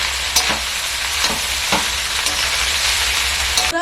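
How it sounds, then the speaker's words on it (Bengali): Rice with coriander powder and meat masala being stirred in a hot pan, a constant loud sizzle with repeated scraping strokes of a spatula at an irregular pace, close up and with no talking. "এবার দেবো 1 চামচ ধনে গুঁড়ো আর 1 চামচ মিট মশলা। দিয়ে মিক্স করে নেব।"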